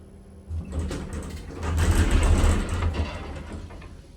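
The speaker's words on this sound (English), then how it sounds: "this elevator like literally sank down for a second and then started going up" A vintage US hydraulic elevator in Houston, Texas, runs with a low, steady mechanical hum and rumble. The hum swells after a brief dip as the car settles, then holds as it rises, with no voices.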